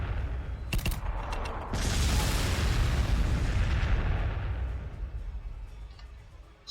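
Frag grenades burst in Warhammer 40,000: Sanctus Reach, a couple of sharp cracks followed by a loud, sustained rumbling barrage of explosions that slowly fades, no talking.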